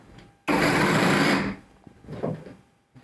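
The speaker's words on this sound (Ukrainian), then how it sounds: "В нашому випадку це акумуляторний лобзик" A cordless battery-powered jigsaw runs in one loud, steady, high-pitched burst of about a second, then cuts off abruptly, leaving faint handling noise and low voices behind.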